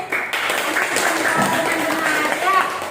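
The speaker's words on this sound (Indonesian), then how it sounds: "Berikan tepuk tangan dulu untuk Gus Gayu" Classroom of fifth-grade pupils clapping for a classmate after a correct answer, a loose burst of children's applause that carries steadily through the moment with voices mixed in.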